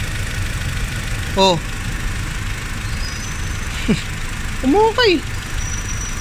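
A Honda Civic engine idles nearby with a misfire, giving a steady rough rumble, while a few short voices and whistling chirps cut in over it.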